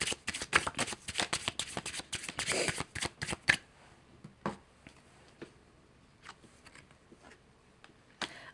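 Tarot cards from the Healing Stars Submerged deck are shuffled with quick, crisp riffling flicks, followed by sparse soft taps and slides as cards are drawn, close and quiet.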